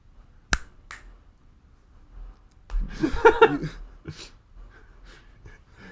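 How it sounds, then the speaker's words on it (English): A single sharp finger snap pops near the start, with another fainter one just after, followed by soft laughter and breathy chuckles nearby. "I snap my fingers and you're wearing the Cinderella dress."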